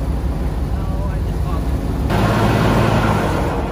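A square body truck hauling a second-generation Dodge has its engine revved hard to the rev limiter, a loud steady roar that climbs and holds, bouncing off the limiter at close range, with voices talking over it.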